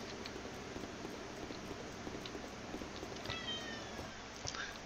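A cat meows faintly a couple of times over a steady, noisy hiss, the calls thin and brief near the end rather than close or loud.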